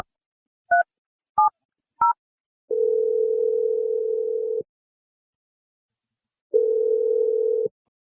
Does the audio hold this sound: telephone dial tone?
yes